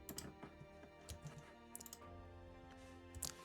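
Computer keyboard being typed on while a website sitemap is entered, giving a quiet, fast run of irregular clicks and key taps with no voices.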